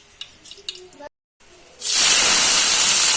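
Doddapatre leaves drop into hot ghee in a pan, and a sudden loud, steady sizzling hiss follows a brief pause and continues without letting up.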